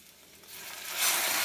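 Leftover cake French toast frying in a pan, a soft hiss that swells into a louder, steady sizzle after a second, close and brief with no talking.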